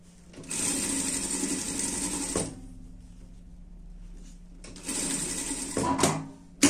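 Sewing machine stitching a seam on a dress, two steady motor bursts of rapid needle clatter separated by a quieter pause, close and alone with a few handling knocks near the end.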